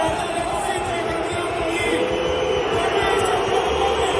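Dense, continuous roar of basketball fans in a European arena chanting and singing, a thick wall of crowd noise holding steady throughout without clear breaks.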